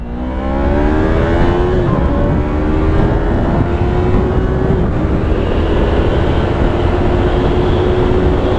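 A Yamaha R3 motorcycle accelerates on the road, its engine note climbing through gears in a loud rising whine over heavy wind rush.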